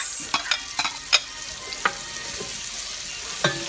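Chopped yellow onions sizzling in a pan of oil while making chicken fricassee, a loud constant crackling hiss broken by several sharp clicks and scrapes of a spoon stirring.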